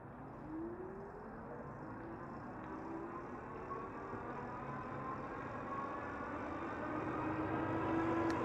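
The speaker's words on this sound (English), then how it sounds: "see how loud the motor is" Mokwheel Tarmac ST commuter electric bike motor on throttle only with street tires: a faint, steady whir that rises slowly in pitch, with soft road and wind noise under it and no speech.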